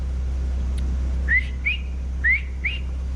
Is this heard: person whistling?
yes